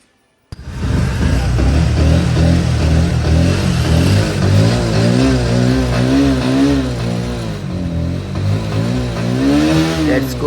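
A Bajaj motorbike, running again after four months idle, fires up abruptly and holds a loud, steady revving idle with rising and falling engine pitch, close to the microphone for about ten seconds.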